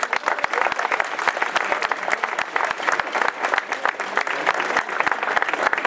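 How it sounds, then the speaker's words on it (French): Dense, loud applause from an audience at an official inauguration ceremony, many hands clapping in a continuous crackling wash that holds steady for several seconds. "Je crois que ça mérite un applaudissement."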